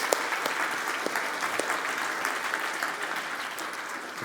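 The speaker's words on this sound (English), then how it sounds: "let's give our speakers and VIP guests a special big round of applause" Steady applause from a crowd at a dental conference, many hands clapping densely and continuously at moderate volume with a few sharper individual claps.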